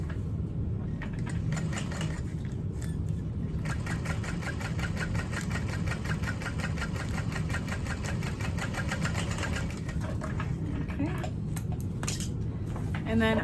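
A sewing machine stitches through a vinyl barrel bag with piping and binding, a steady rapid mechanical whir running nearly the whole time with brief pauses and no talk.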